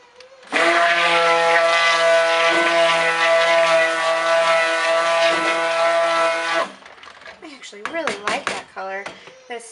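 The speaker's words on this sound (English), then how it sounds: "Still too thin. I'm gonna blend this for another" A blender whirs steadily as it blends soap batter for nebula silk soap, running loud and continuous for several seconds and then stopping, after which a few scraping and clunking handling sounds follow.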